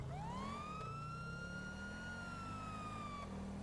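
A police car siren from GTA V wails in one long rising-and-falling sweep. It is fairly quiet over a low engine rumble, with no talk.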